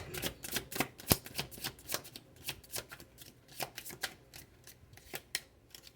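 A tarot deck being shuffled and cards pulled, heard as quick, close papery riffles and flicks in an uneven rhythm, with one sharper snap early on and no voices.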